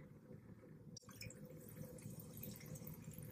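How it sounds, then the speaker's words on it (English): Cherry cola being poured into a cup, a quiet liquid trickle that turns into a fizzy, bubbly pour after a brief click, close and steady. "Pour that up in the yummy mukbang cup"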